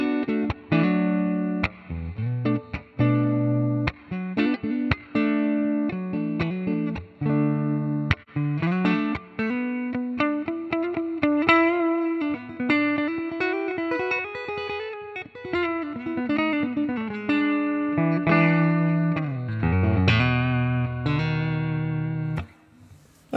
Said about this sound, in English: We've got the Joyo atmosphere here just on a plate reverb,